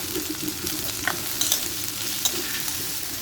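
Cashews and melon seeds frying in a pan, a dense continuous sizzle with occasional stirring clinks, close and without talk.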